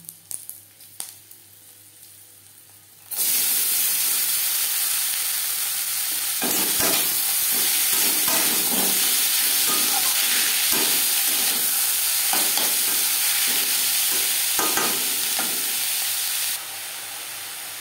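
Bottle gourd seeds frying on a low-medium flame, a loud steady sizzle that bursts in once the seeds hit the pan and carries on with occasional stirring scrapes, no talking.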